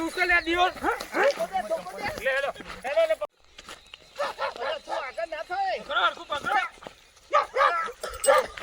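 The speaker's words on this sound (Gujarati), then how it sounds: "કૂતરું આવ્યું ને" A dog barks a few times close by while several people talk loudly over it.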